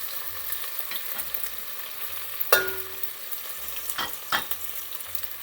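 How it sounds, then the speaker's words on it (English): Green chilies and onion fry in hot oil with a steady low sizzle, broken by a few sharp pops and scraping stirs. "We'll add the chilies with the onion and let it start to pop"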